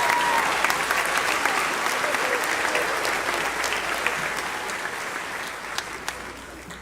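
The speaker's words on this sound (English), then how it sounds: "Can we just give another round of applause for the choir and the band?" An indoor crowd at a high school graduation in Sellersburg, Indiana applauds the choir and band, dense steady clapping that slowly tapers off over several seconds, with no talk on top.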